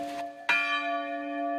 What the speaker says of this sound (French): celui des cloches de l'église Saint-Laurent